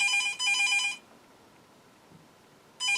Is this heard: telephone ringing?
yes